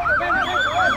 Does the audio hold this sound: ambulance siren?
yes